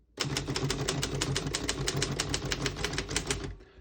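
Rapid, steady clacking of a 1950 Royal KMG mechanical desktop typewriter on single spacing, keys striking in a quick even rhythm, close and clear, ending with a brief fade.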